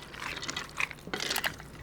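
Liquid, ground beef and pasta stirred and folded together in a pan for homemade hamburger helper, giving soft wet squelching and sloshing in short irregular bursts, close and fairly quiet.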